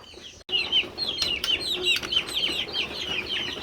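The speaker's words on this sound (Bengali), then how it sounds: "এখানে মোট 9টা দেশি মুরগি আছে" Desi chickens clucking close by: a busy run of repeated clucks and short calls from several hens, fairly loud over a faint background hum.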